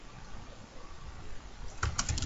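Short burst of computer keyboard typing while writing code for a Unity game, a few quick clustered keystrokes near the end after a stretch of quiet room noise.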